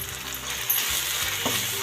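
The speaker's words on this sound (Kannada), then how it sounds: "ಹಸಿ ಸ್ಮೆಲ್ ಹೋಗೋವರೆಗೂ ಫ್ರೈ ಮಾಡ್ಕೊಬೇಕು." Ground coriander, cumin, garam masala and turmeric frying in oil in a pan for egg rice, giving a brief, steady close sizzle with a couple of soft stirring clinks.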